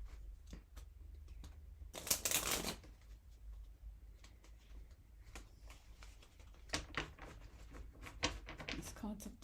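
A tarot deck being shuffled by hand, with a loud riffling burst of cards followed by softer shuffling, tapping and handling noises, while a voice talks quietly at times.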